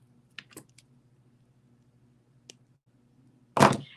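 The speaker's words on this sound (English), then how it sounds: "We're going to come in with our cutter tool and trim off the excess." A cutter tool trims excess wire on a beaded earring: a few faint clicks and light handling sounds over a low hum, then one louder, crisp snip near the end.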